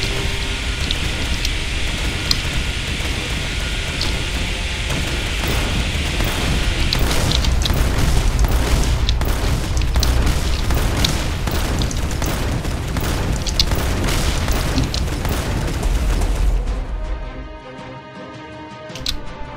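Airship cannon fire and explosions in the video game Battle Airship, a dense, continuous barrage of booms and crackling blasts that swells midway and cuts off abruptly near the end.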